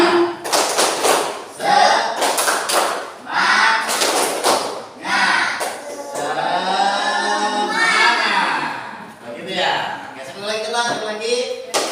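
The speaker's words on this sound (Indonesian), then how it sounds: "Kalau kita semangat, berarti kita harus tepuk semangat." A classroom performs the tepuk semangat routine, with sharp rhythmic group hand claps in short patterned bursts between stretches of chanting voices.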